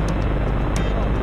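An F330 FPV quadcopter drone on its landing approach, a loud steady whirring buzz of propellers filling the whole moment, with faint voices underneath.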